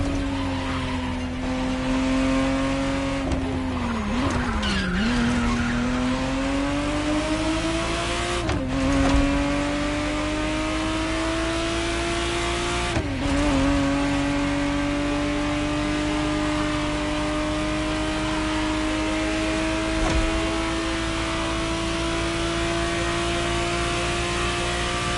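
A 1991 re-engineered Ferrari Testarossa driving in the racing game The Crew Motorfest, its engine droning steadily and loud, with the pitch dipping and climbing through several gear shifts and brief tire noise.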